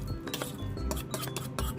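Ceramic plates and utensils clink and knock repeatedly while mashed tofu is served onto a plate, a quick close series of sharp chinks with no talking.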